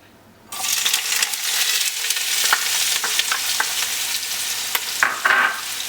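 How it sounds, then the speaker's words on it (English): Onions hitting heated vegetable oil in a pan burst into a loud, steady sizzle after a short quiet start, with stirring scrapes and small clicks through the frying and no talking. "We have heated oil in a pan, a little bit of vegetable oil, and we're gonna add the onions"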